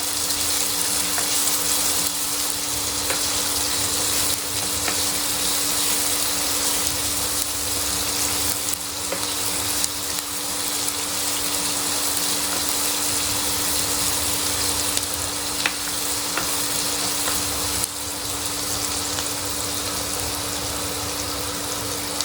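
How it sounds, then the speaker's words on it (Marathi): Finely chopped onion sautéing in a pan for a spicy brinjal bharit, giving a dense, steady sizzle with a constant low hum beneath, close and unbroken throughout, with no voices. "बारीक चिरलेला कांदा घालणार आहोत तो छान आता परतवून घेऊया"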